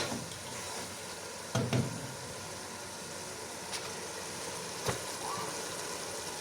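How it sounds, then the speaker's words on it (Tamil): Prawns sautéing in a pan for prawn biryani give a soft, low sizzle with a few faint clinks and scrapes of stirring. "இறால் எல்லாம் எப்படி வதங்கிக்கிறது இந்த மாதிரி இப்போ வதங்கி கொண்டிருக்குது"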